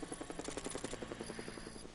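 A video game helicopter in Batman: Arkham Knight, its rotor beating in a steady rapid pulse with a droning whine, close and loud, with no talk over it.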